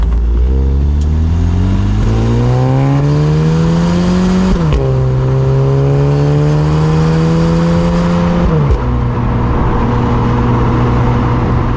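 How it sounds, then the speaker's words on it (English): A 2020 Volkswagen Golf R Final Edition revs loudly and steadily with its exhaust valves open, pitch climbing through two gear changes with a throaty exhaust note and no voices. "the valves in the exhaust open up to make a glorious noise"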